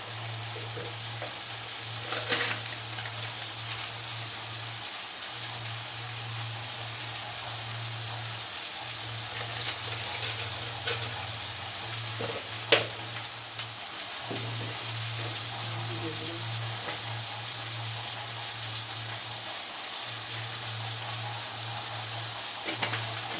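Turmeric and spices frying in oil for a Punjabi okra chole masala, a soft continuous sizzle like light rain, steady and moderately close with an occasional tap.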